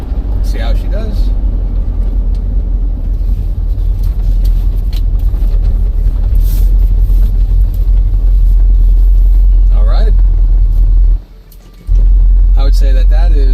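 A C3 Corvette with freshly repaired brakes drives home, its steady low engine and road rumble loud and continuous throughout, briefly dropping away near the end as it slows, with someone talking over it.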